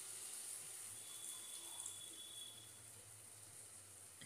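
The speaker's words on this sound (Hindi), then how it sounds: "तो यहाँ मैं 1/2 कप पानी भी ऐड कर रही हूँ।" Half a cup of water is poured into a pan of bitter gourd sabzi, making a faint, steady trickle that lasts a few seconds with no talk.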